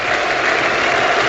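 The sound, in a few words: cricket crowd shouting Yorkshire after Test century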